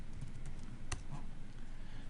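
Typing on a computer keyboard during a Windows sysprep setup, a few faint scattered key clicks with one sharper tap, close by over a low steady room hum.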